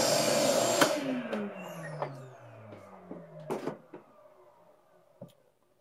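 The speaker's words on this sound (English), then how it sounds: "We've got it all vacuumed out all the way to the back as best we can." Shop vacuum running loud and steady at the start, then winding down with a falling pitch while scrapes and knocks follow, after sucking fly ash out of the tunnel of a rocket mass heater during its annual clean-out.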